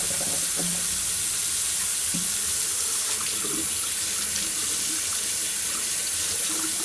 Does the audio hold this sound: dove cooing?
no